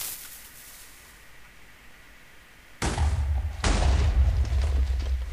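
A Minecraft TNT cannon built to fire like a mortar in a high arc lets off two deep, loud booms about a second apart, each trailing into a rumbling decay after a quiet stretch, with no voices.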